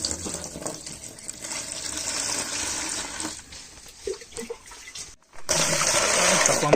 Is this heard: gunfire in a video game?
no